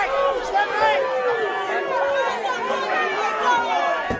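An angry crowd shouts and jeers at a car trying to leave, its way blocked and police holding people back; many overlapping raised voices form a dense, continuous roar close by.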